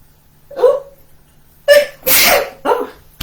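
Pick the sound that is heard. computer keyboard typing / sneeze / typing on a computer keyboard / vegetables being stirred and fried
sneeze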